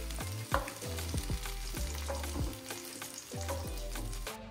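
Capsicum fries in oil left over from frying paneer, a steady crackling sizzle under a series of repeated low scraping strokes from stirring, close but fairly quiet.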